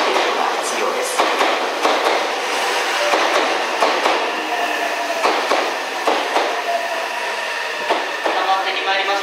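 A train pulls into Kanayama station with loud, steady rumbling and a rhythmic clatter of wheels over rail joints, recorded close on the platform.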